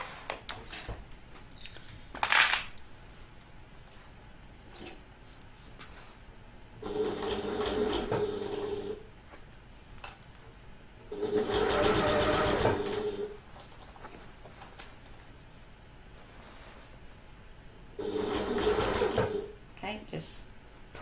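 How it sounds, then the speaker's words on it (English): A sewing machine stitches a handbag along its exterior side in three loud bursts of rapid whirring, separated by pauses, with someone talking throughout and over the quieter gaps. "I'm sewing on the exterior side."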